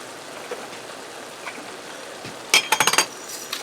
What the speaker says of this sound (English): I'm going to allow this to fry till the onions are tender and beef is fully browned up